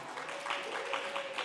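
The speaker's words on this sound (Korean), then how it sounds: "저는 이렇게 빨리 박수 칠 줄 몰랐어요" Audience clapping during a Korean church semester-opening retreat, a steady, moderately close patter of applause from a room full of students.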